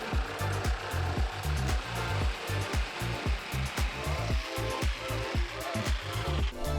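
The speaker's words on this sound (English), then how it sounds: "which I'm going to trace out onto some MDF and cut out with a jigsaw" A jigsaw cuts through MDF nearby. Its motor whines steadily, with a loud, rapid, rhythmic chattering from the blade as it works through the board, and this goes on for about seven seconds with no talking.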